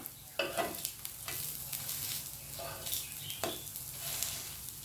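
Bottle gourd vadas frying in oil in a pan, a close, steady crackling sizzle broken by several spatula scrapes as they are turned.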